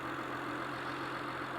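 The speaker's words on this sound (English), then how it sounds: "I just wanted you guys to hear the engine at a cold start after replacing the ignition coils" Honda/Acura car engine idling at a cold start after ignition coil replacement, a steady low hum with a faint even drone, quiet and unchanging, no voices.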